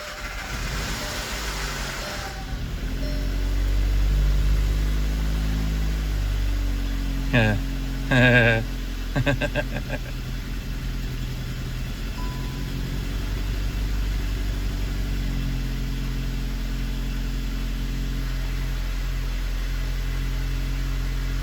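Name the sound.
rebuilt 2015 VW Jetta 1.8T engine running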